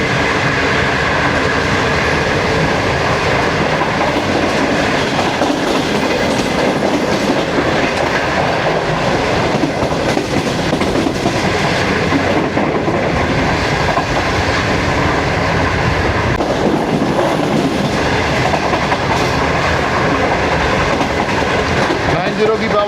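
Green Line express train in Pakistan running at about 105 km/h, heard from on board as a continuous loud rumble with rhythmic clickety-clack of the wheels on the rails throughout.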